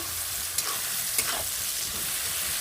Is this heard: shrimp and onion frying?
yes